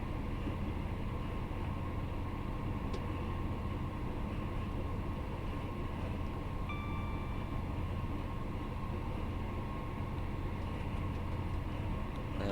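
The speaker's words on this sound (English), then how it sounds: "What an awesome train." A Class 158 Sprinter train on the Edinburgh–Glasgow line in a train simulator, heard as a steady low rumble with rolling rail noise that holds for about twelve seconds, with faint brief tonal whines partway through and no talking.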